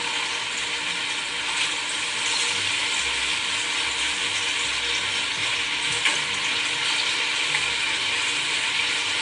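Home fries frying in a pan give a steady, close sizzle that runs unbroken throughout, with faint scraping and stirring touches and no talk.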